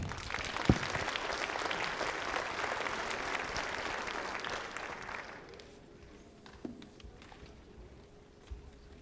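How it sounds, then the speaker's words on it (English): Steady applause from an audience at a school district student awards ceremony fills most of the clip, then tapers off into a quieter room with a couple of faint knocks. "Let's give them a wonderful applause to all these amazing students that were awarded tonight."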